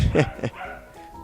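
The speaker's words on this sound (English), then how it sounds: "Sorry if you hear my dog barking" A couple of quick dog barks up close, two sharp yaps in a row, followed by a quieter stretch with low background noise.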